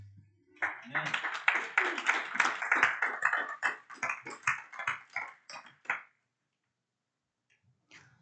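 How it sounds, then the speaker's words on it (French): A church congregation claps for Jesus during a sermon at a Sunday service, with rapid rhythmic clapping and voices for several seconds before it stops abruptly into near silence. "Acclamons pour Jésus."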